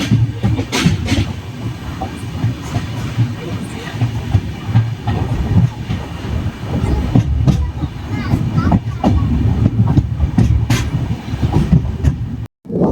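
Pandian Express overnight train bound for Chennai rolls along with a steady rumble, rhythmic wheel clatter and hiss close by, while someone speaks over it.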